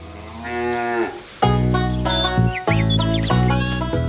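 A cow moos loudly several times in a row, long low bellowing calls close by, with a brief pause between them.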